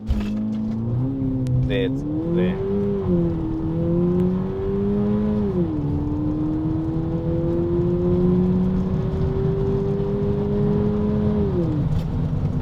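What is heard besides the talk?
2024 VW Polo GTI accelerating using launch control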